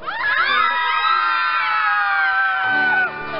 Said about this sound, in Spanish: vamos a esperar que griten las maestras